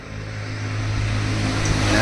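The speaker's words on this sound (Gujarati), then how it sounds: "પાછળ રોડ છે અને વાહન નીકળે એટલે તમે જોજો કે કેવો અવાજ આવે છે" A road vehicle passes behind the recording spot, picked up by a phone's built-in microphone: a steady, low engine drone that swells gradually toward the end as it draws nearer, with no talking.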